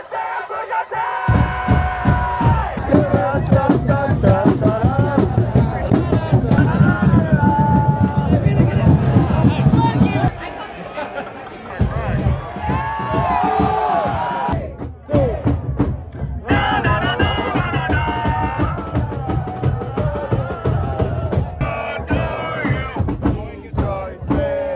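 Football supporters packed into a Detroit City FC stadium make a loud, continuous roar of chanting and cheering, with voices rising and falling over a steady crowd din that dips briefly before swelling again.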